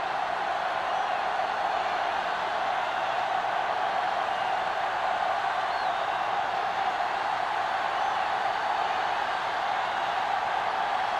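Steady stadium crowd roar at kickoff in a football video game, a distant, even wash of cheering voices holding at a constant level with no breaks.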